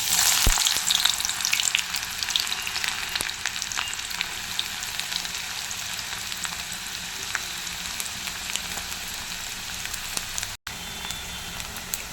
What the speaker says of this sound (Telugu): ఆయిల్ హీట్ ఎక్కింది. ఇప్పుడు ఎర్రగడ్డలు వేద్దాం.